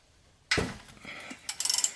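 A size 6 hex socket on a ratchet loosens the oil drain plug of a Mazda 6: a sharp metallic snap as the tight plug breaks free, then a quick burst of ratchet clicks close by.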